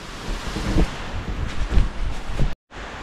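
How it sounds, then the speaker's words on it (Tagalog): Strong gusty wind buffets the microphone in heavy, rumbling surges, loud and close, with a sudden brief cutout near the end. "Ang lakas na naman ng hangin."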